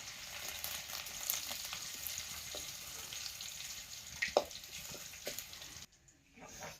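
Garlic sizzles and crackles in hot oil in a pan, with a steady frying hiss, a few clinks and stirring scrapes, and a sudden drop to near quiet near the end.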